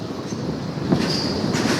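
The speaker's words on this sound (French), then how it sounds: "Ici, on arrive à la station de métro" A Paris métro train arriving at a station near Louis Blanc, a steady rumbling roll of rail cars with a faint high squeal of wheels, heard alone and fairly close.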